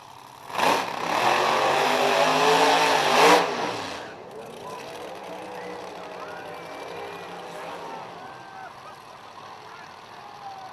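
A turbocharged 1988 Ford Mustang at a Missouri drag race roars loudly past for a few seconds, its engine note rising and peaking before falling away into the distance, with an announcer speaking over it.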